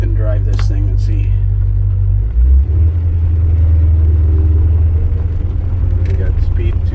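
A 1968 Dodge Charger is driven, with a loud, steady low engine rumble that shifts in pitch partway through as the car moves off. Faint speech is heard under the engine.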